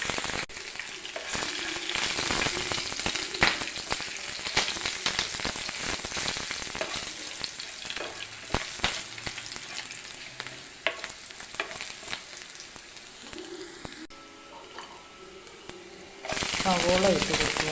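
Onions sizzle steadily in a hot pan with curry leaves, green chilli and ginger for a Kerala egg roast, with frequent stirring scrapes, loud and close throughout, and a brief hiss surge near the end.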